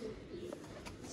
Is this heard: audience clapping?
no